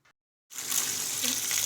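A kitchen tap is opened to run water over peas to cool them, a short quiet pause then a sudden steady gush of running water splashing close by.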